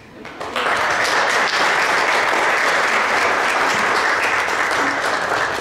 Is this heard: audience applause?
yes